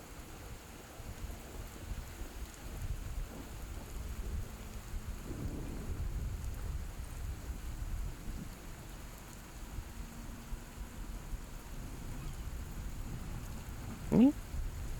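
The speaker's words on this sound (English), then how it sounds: "Fucking rain." Steady rain with low rumbling thunder through a nighttime storm, a continuous wash of noise with a brief sharper sound near the end.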